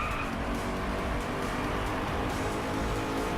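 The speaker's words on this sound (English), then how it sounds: "The way it shifts up is a really nice noise as well. Sounds like sort of crackling a fire." A race car in the Driveclub video game on a Japanese track, its engine droning loudly and continuously with faint crackling pops as it shifts up through the gears.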